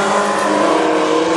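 Race cars roar around the Princeton Speedway track in a heat race, a dense, loud and unbroken wash of engine noise with no pauses.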